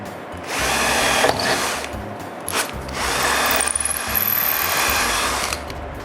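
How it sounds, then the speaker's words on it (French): A short drill bit bores holes into the wood of an interior door on the frame side, with loud sustained whirring bursts separated by brief pauses and a rising whine partway through. "Avec une mèche moins longue, je perce les trous du côté du cambre."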